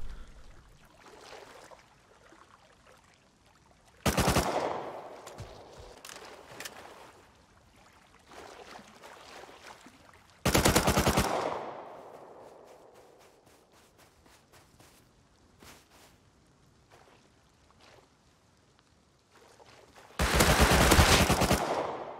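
Gunfire and heavy blasts in the survival game Rust as a parked minicopter is destroyed. Three loud, sharp bursts stand out from quieter scattered shots and rapid clicking, and each leaves a fading rumble.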